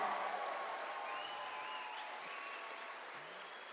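An audience at a JD Vance town hall in Bedford, Pennsylvania claps in a sustained round of applause, steady and fairly distant, slowly tapering toward the end without any clear speech over it.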